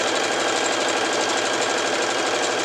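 Sewing machine hemming fabric for a Kallax box cover, running in a fast, steady whirring rattle, loud and close, with no talk.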